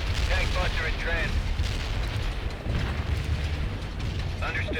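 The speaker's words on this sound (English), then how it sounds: "Artillery firing." Artillery fire in the strategy video game World in Conflict: continuous low rumbling booms and mechanical clatter, loud and dense, with a radio-style voice talking over parts of it.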